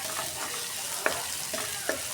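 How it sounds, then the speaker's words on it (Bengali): Onions sizzle gently in a pan as they slowly brown for birista, and a few sharp clinks of a stirring spoon against the pot cut through the steady hiss. "আস্তে আস্তে পেঁয়াজটা লাল করে বেরেস্তাটা উঠে তারপরে বসাই দিব"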